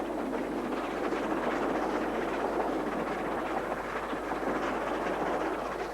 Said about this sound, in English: We're about to go on a railway journey